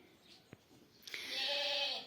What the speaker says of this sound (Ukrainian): мене вже кличуть мої кози